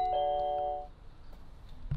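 An old-fashioned doorbell rings once with a bright, sustained chime that fades out, followed by near silence and a faint knock at the end.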